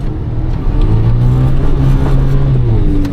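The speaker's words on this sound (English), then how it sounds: "those tractor tires on such a light truck with good wheel speed, dude, just plows right through" A Suzuki Jimny JB23 on tractor tires ploughs through soft off-road ground. Its engine revs loud and close in a steady, strained drone with a rising whine, and no one speaks.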